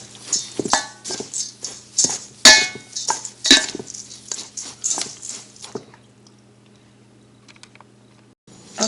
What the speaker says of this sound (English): I already chopped up the coconut and the almond, and I just stir them into the mix